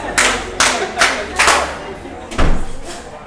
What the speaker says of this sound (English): Clap 4 times.